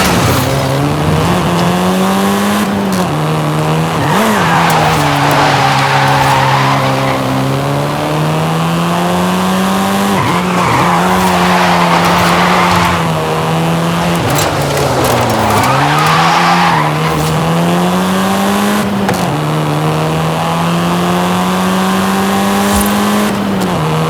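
A car in the Forza Horizon 5 racing game drives with a loud, steady engine drone, while repeated tire skids and squeals swell and fade every few seconds.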